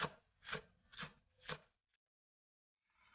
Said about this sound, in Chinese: 再把葱绿切成葱花